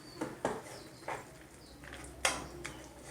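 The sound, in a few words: roasting and stirring a dish with ghee in a pot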